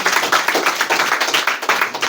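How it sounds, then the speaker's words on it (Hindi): Students in a classroom clap together, a steady mass of fast overlapping hand claps that holds at an even level throughout with no talking. "पहले जोरदार ताली इनके लिए बजाओ भैया"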